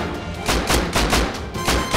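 Gunfire in the video game Rust, a quick run of loud, close shots fired in rapid succession.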